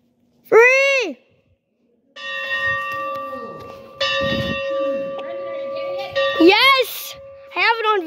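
A museum steam locomotive's bell at a national transportation museum rings in a steady sustained clang for several seconds, while excited voices shout nearby before and during the ringing.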